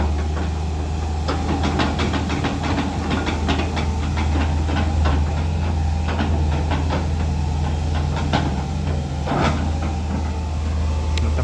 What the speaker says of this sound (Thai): แมคโครแต่งบอ่อลูกรังนะครับขุดเอาลูกรังเสร็จแล้วก็แต่งนะครับ